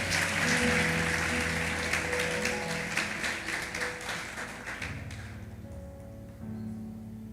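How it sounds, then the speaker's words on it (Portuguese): Church congregation applauding together in a warm, sustained burst of clapping that swells and then thins out, with a low musical drone underneath. "Pode aplaudir a Jesus, não tem problema."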